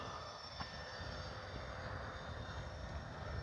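After landing on a rainy day, the engine of an Arrows F4U Corsair V3 radio-controlled model plane holds a steady, thin whining drone at moderate distance.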